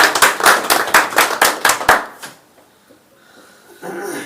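Crowd at a health awareness program claps in steady rhythmic unison, about a dozen sharp, evenly spaced beats that stop abruptly, followed by a near-silent pause and faint room noise.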